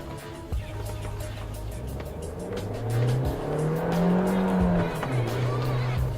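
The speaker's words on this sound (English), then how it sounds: "this car is designed to rev. And boy, does it rev like now." 2013 Suzuki Swift Sport with its 1600 engine revving hard from the cabin, pitch climbing and dropping through gear changes in several sweeps, loud and close, with road and tyre noise underneath.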